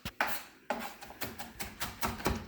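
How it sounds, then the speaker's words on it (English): Fresh coriander (cilantro) being chopped with a knife on a board while lentil and Swiss chard soup is made, a series of crisp, close thuds in an uneven rhythm. "So you're chopping the Coriander right now, or cilantro."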